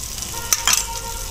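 Onion pieces and ginger garlic paste sizzle steadily in a pan, with a couple of brief stirring scrapes partway through.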